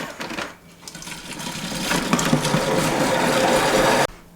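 A kitchen food processor chops an aromatic vegetable mix for three seconds at speed 4.5. A steady, loud mechanical whirr with rattling runs continuously and then cuts off abruptly.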